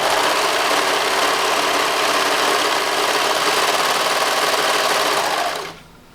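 A serger overlock sewing machine, running at up to 1,300 stitches per minute, stitches a seam in a steady, loud, fast whir that lasts about five and a half seconds and then stops abruptly.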